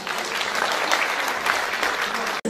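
Audience applause at a Turkish music choir concert, dense continuous clapping from a crowd, loud and sustained, cutting off abruptly at the end.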